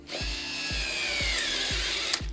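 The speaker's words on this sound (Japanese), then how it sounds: "じゃあボッシュもこの 10mm 木工ドリル試してみたいと思います。" A Bosch GO3 cordless electric screwdriver fitted with a 10mm wood bit grinds continuously into hard wood at full power, its motor straining with a rhythmic thumping pulse as the bit bites in.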